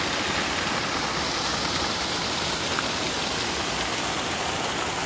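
Near and loud, a waterfall runs down into the Thommankuthu river in an unbroken roar of tumbling water, constant from start to finish and free of speech.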